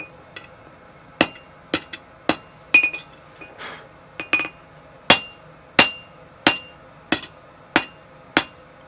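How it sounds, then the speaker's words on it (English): A hammer strikes hot metal on an anvil while forging v-bit tongs, the edge of the hammer spreading the stock like a cross peen: about a dozen sharp, ringing blows in a steady, uneven rhythm, close and loud. "I'm now using the edge of my hammer to spread this"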